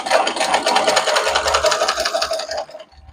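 Domestic sewing machine stitching along the edge of fabric in a continuous, steady, close whirring run that stops abruptly near the end, with no talking.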